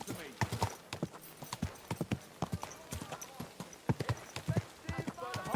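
Hooves clip-clop at a steady trot from a horse in the medieval game Kingdom Come: Deliverance II. The beats are close, crisp and evenly spaced, with a little speech over them.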